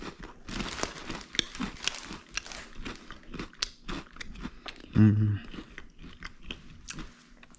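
Someone chews pretzel, pistachio, white chocolate and cinnamon bites, and close crunchy bites and crinkly chewing go on for several seconds with a brief spoken word in between.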